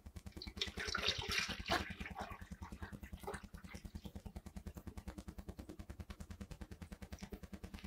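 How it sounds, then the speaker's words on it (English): Water filling the reservoir of a cow injection simulation model, a brief splashing pour near the start over a steady rhythmic mechanical pulsing that continues throughout. "remove the cap, and then fill it most of the way up with water"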